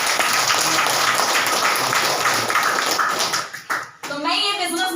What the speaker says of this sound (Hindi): टीम के लिए एक बार जोरदार ताली।